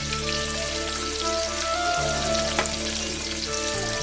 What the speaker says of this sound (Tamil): நல்லா வதக்கணும், பொன்னிறமாக வதக்கணும்.